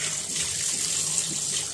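Tap water runs steadily while the head of a bottle gourd is washed under it in a home kitchen, a close continuous splashing hiss with no voices.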